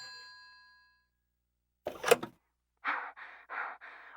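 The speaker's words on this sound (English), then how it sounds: "Sounds like our phone is ringing once again." A telephone rings in the horror video game Silent Hill 4: The Room, sounding as four evenly spaced electronic ring pulses after a fading tone and a short noisy burst, with no talk.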